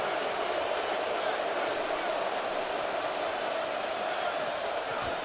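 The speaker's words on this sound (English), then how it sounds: "Listen to this crowd just shaking the girders of this place, trying to help their defense." A packed stadium crowd in the College Football 27 video game roars loudly and steadily for the whole stretch, a dense wall of noise with a voice faintly under it.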